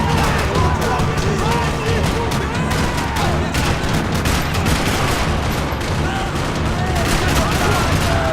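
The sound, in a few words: gunfire in a parking lot, from video game Max Payne 3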